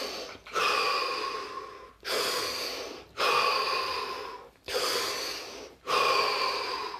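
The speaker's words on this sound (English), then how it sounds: "So take 3 deep breaths. I'll do it with you." Five slow, deep breaths drawn in a calm meditation setting, each a loud, airy inhale-exhale swell lasting about a second and a half, separated by brief pauses, close to the microphone with no talking.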